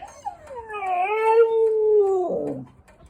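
A single dog lets out a drawn-out howling whine that rises, holds, then breaks into a short whimper, fairly close and alone.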